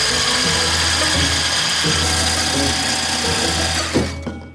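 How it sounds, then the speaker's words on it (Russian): An electric hand mixer whirs steadily and loudly as it beats whole eggs for a cake batter, the motor tone even throughout before it winds down and stops near the end, with no voices. "Берите миксер и взбивайте прямо так, как есть"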